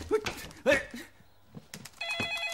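A telephone for reporting crimes rings with a short electronic tone that starts near the end, after brief voices and bumps at the start.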